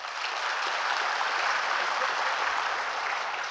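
An audience at a lecture on provincial economics and development applauds, a dense steady wash of many hands clapping at once that holds even throughout.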